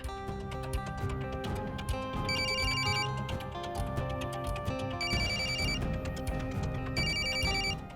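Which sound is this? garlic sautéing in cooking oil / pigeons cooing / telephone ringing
telephone ringing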